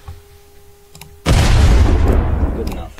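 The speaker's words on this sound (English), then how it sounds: "audio, explosion" A Clash Royale-style bomber explosion sound effect from a Roblox game plays after a quiet stretch, a single loud, sudden boom with a broad rumbling tail that decays over about a second and a half.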